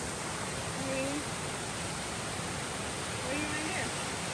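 Constant broadband roar of falling water fills the scene, steady and enveloping, with a faint voice briefly audible beneath it.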